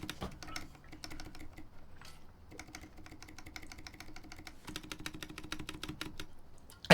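Rapid typing on a mechanical computer keyboard with a Topre-like feel, crisp key clacks in quick bursts and short pauses, close and clear with no talking.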